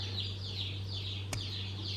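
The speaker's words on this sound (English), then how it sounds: "now if you hear baby chicks in the background, we got baby chicks today" Baby chicks peep faintly in the background of a home kitchen, a quick repeating run of high chirps over a low steady hum.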